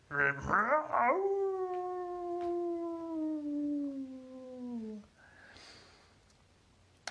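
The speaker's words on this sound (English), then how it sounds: "While the wolf man was howling and turning the rest of the way into the wolf" A werewolf lets out one long, loud, wavering howl that starts with a rough yelp, holds steady, then slowly falls in pitch over about four seconds before cutting off into a quiet breathy hiss.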